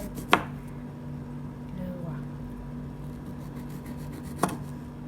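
Two sharp knife chops on a cutting board while cutting kiwi fruit, one early and one near the end, over a low steady hum with faint background voices.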